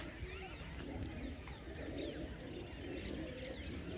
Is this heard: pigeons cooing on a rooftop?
yes